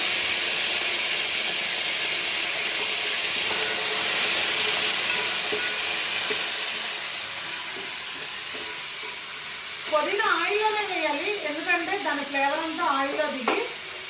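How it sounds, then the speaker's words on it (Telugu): Whole spices and fresh mint fry in a pan for Andhra-style chicken pulao, giving a loud, steady sizzle. A wavering, whistle-like tone rises over the hiss toward the end. "ఇవన్నీ దినుసులు వేగుతున్నాయి కదా"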